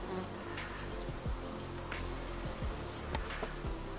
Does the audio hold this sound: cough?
no